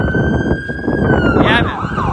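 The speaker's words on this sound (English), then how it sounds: "We have some sirens coming." An ambulance siren wails on Yonge Street in downtown Toronto, heading toward St. Michael's Hospital, a loud steady rising and falling tone that shifts into rapid yelping over heavy city traffic noise.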